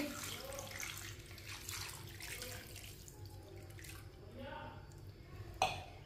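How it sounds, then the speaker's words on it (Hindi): A glass of water is poured into a wok holding chicken, a continuous splashing gush that fades out, while a voice talks over it. "ये हमने 1 गिलास पानी डाल लिया इसमें"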